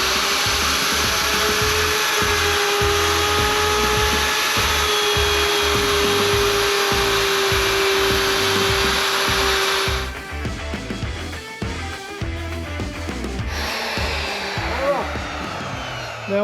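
A power tool bevels the corner of a wooden board for a firepit makeover, giving a loud, steady motor whine that carries on for a long stretch, then turns rougher and choppier as the cut changes near the end.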